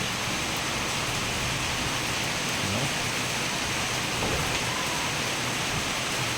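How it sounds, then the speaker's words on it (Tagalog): Steady rain falls outside on the first day of May rains, a dense even hiss with pattering drops throughout and no talk. "Ulan sa labas."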